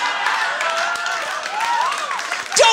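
A stand-up comedy audience claps steadily and densely throughout, the applause swelling slightly toward the end with a brief voice rising over it.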